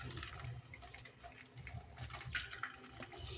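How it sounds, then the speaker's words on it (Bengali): Semolina sweets sizzle and bubble in hot oil, a steady broadband frying hiss with small crackling bursts, close and fairly quiet throughout. "এবার একটা একটা করে মিষ্টি আমি তেলের মধ্যে দিয়ে দেব।"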